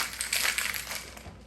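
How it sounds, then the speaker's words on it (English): Ice rattles hard inside a cocktail shaker while a Black Russian is shaken, a dense close burst of clattering that fades toward the end. "Shake it up."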